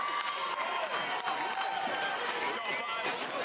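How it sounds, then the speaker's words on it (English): A large crowd cheers and claps at a pickleball championship match in San Clemente, California, a steady loud roar with scattered shouts that carries throughout. "The crowd is rolling here in San Clemente, California for this championship matchup."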